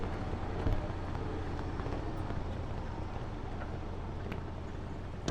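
An old Dodge truck on a test drive with a freshly adjusted front end. A low, steady engine and road rumble drones faintly and evenly, with no talking.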